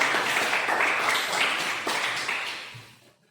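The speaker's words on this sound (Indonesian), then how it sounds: "tepuk tangan bagi kelompok 2" Applause for presentation group 2 in a classroom, a short burst of many hands clapping that fades out over about three seconds.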